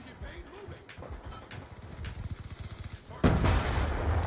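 Gunfire in the video game Call of Duty, a steady run of rapid, thudding shots followed by a sudden louder burst near the end, with someone talking over the action.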